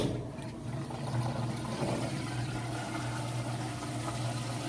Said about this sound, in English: now we're coming into that final spin cycle. It's draining out all the water right now.